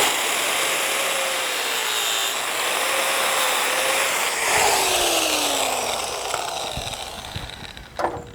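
A power tool cutting the end off a snatch strap, a sustained whining cut with pitch sliding downward in a few sweeps, ending in a short clunk, close by.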